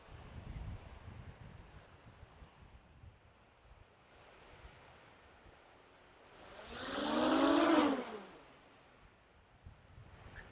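Wind in harsh Scottish conditions buffets the microphone, a low steady rush that swells into a loud roaring gust near the middle before dropping back to a faint background hiss.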